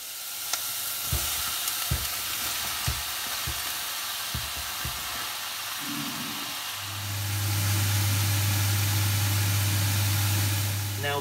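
Onions and mushrooms frying in a pan, a soft continuous sizzle broken by several sharp knocks of stirring, then a steady low hum rises and holds under the sizzle near the end.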